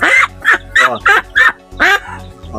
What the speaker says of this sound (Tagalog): So ito yung sound na ang babae na Peking duck.